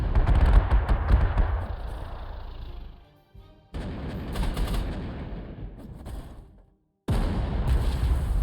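Artillery bombardment in the World War II strategy game Panzer Corps 2: three loud volleys of booming, crackling gunfire, each trailing off, separated by short silent gaps.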